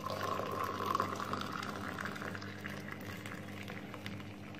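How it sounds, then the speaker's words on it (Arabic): Boiling water poured into a tea cup, a steady, fairly quiet stream of liquid filling the cup for several seconds with no talking. "معايا بقى الميه المغليه اهيت"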